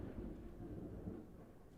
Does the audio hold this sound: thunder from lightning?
yes